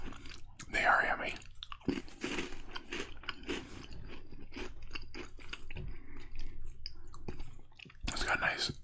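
Crunchy fish crackers being chewed close to the mic, with irregular crisp crunches and bites, under quiet talk that runs through most of the stretch.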